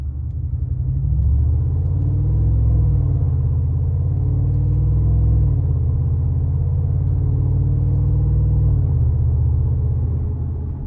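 A 2021 Brabus WideStar Mercedes-Benz G550 on 24-inch wheels floored at full throttle onto the interstate, its engine a loud, deep, sustained rumble heard from the cabin, pitch rising and falling through gear changes for the whole stretch.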